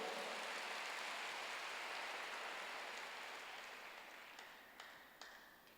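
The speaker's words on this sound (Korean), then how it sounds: "박수로 하나 들으시기 바랍니다" A church congregation applauds together, a dense, steady wash of many hands clapping that slowly thins toward the end, with a few louder individual claps near the close.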